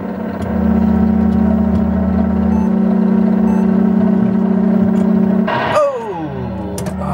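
A racing car engine in a Sega Turbo arcade game drones at a steady synthesized pitch, then drops sharply in a descending whine near the end, loud and alone.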